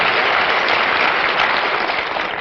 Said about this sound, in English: I don't know why you applaud